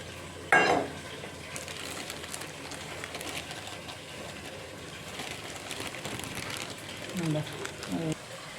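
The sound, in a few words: neypathal dough frying in boiling oil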